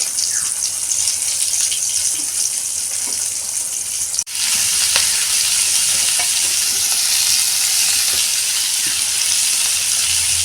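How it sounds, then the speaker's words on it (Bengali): Two pointed gourds (potol) frying in a pan give a steady, loud broadband sizzle that runs throughout, with a brief dip and clunk near the middle before the hiss resumes. "আর 2টো পটল ছিল, এটা ভাজা করছি।"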